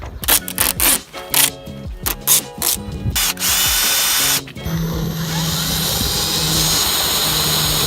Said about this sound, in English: find the center of it, mark the holes, and start drilling